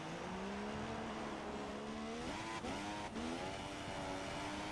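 F1 car in a racing video game starting a flying lap on soft tyres at the Italian GP: a loud, continuous high-pitched engine whine climbing through the revs, with quick upshifts breaking the rise near the end and no talk.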